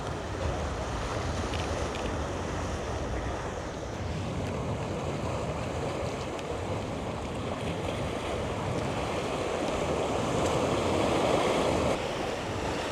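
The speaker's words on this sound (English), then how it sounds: "Waves breaking on the rocks down here" Ocean waves crash and wash over rocks in a continuous roar of surf mixed with wind buffeting the microphone, steady and fairly loud throughout with a slight swell near the end; no one speaks.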